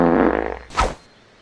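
A single wet, spluttering fart bursts out after a brief stretch of low rumbling, loud and close, then trails off into quiet.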